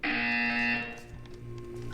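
A loud, harsh electronic buzzer from the video game Portal 2 blares for under a second, then cuts off into low background hum.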